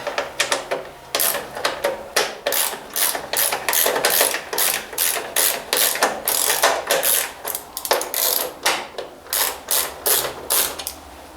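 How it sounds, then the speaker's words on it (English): A 1/4 inch ratchet works on a small engine, its rapid pawl clicks coming in quick repeated bursts with brief pauses between strokes, close and fairly loud with no talking. "I need my 1/4 inch ratchet now"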